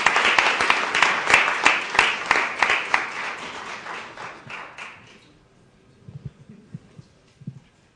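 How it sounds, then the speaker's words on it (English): Audience applause for a band and its director at a Freeholder presentation: a crisp burst of many clapping hands with distinct strong beats that thins and fades out after about five seconds, leaving faint low thumps and room noise. "let's give them a round of applause."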